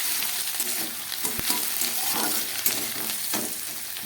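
Diced potatoes and onions frying in oil in a pan, a steady broadband sizzle with a few sharp stirring clinks and scrapes throughout, close and moderately loud, no voices.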